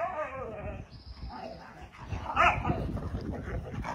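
A husky throwing a tantrum lets out whiny, wavering howls and grumbling vocalizations, moderately loud and close, rising to a sharper yowl partway through, with no talk over it.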